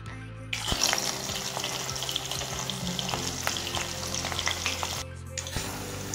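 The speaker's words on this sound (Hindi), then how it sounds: "कड़ाई रे तेल ताती आसलानी। सोयाबीन कोबी को छाणी नेबा।" Soybean chunks and cabbage fry in hot oil in a kadai, a close, steady sizzle with stirring clatter that starts abruptly and stops near the end.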